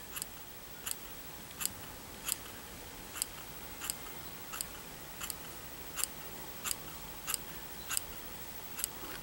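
Scissors snip through a doll's hair while cutting a short wispy bob, giving quiet, crisp cuts in a steady rhythm about every three-quarters of a second with nothing else in the background.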